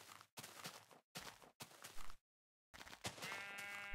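Sheep bleating in the video game Minecraft, several short separate bleats in quick succession, a gap of silence, then one longer call, all close and clear.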